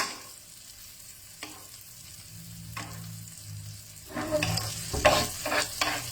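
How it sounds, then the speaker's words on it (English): Salmon fillets frying in melted butter in a pan while butter is spooned over them, with scraping, stirring clatter and bursts of sizzling that grow louder toward the end; no talking. "Scoop the melted butter on the fish."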